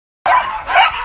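A dog barks at an animal shelter, two sharp, close barks after a brief silence, loud and alone.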